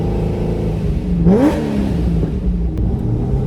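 A 1000hp Corvette revs hard, its engine roar climbing sharply in pitch during a strong pull, loud and close against steady road and engine drone, with no talking over it.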